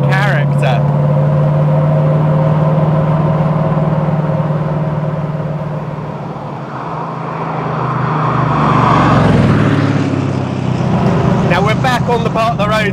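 A 1970s DeTomaso Pantera's American V8 drones steadily under load while driving on a bumpy road, a loud low engine note rising and falling slightly, with a voice talking over it.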